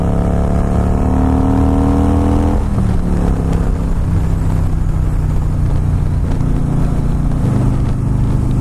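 Harley-Davidson Fat Boy S motorcycle engine revving up to its rev limiter and cutting out, a loud, close, continuous rising drone that drops off abruptly, then idles and revs again.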